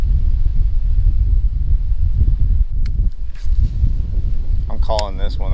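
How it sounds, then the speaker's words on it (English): Strong wind whips across a small creek during kayak fishing, a steady low roar buffeting the microphone up close, with a few faint clicks and a brief higher tonal sound near the end. "The wind is whipping."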